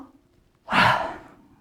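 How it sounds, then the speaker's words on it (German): One exaggerated breath, drawn deeply with the shoulders pulled high, during a recorder lesson. The breathy rush is close and fairly loud, swelling quickly and then fading over about a second. "Also ihr atmet mal ein und zieht so richtig doll die Schultern dabei hoch."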